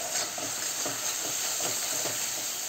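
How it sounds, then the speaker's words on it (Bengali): Turmeric being stirred into desi chicken in a cooking pan: a steady hiss of sizzling with soft, rhythmic scraping strokes running under it. "দেখতে নাড়াচাড়া করে নিলাম"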